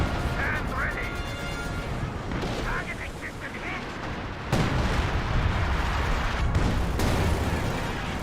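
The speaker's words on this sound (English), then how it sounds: "We've got airburst rounds that may destroy the Shooting Pioneers." Airburst artillery rounds in Company of Heroes 2 bursting over a noisy battle, with a couple of sharp, loud blasts standing out from the din while a commentator talks.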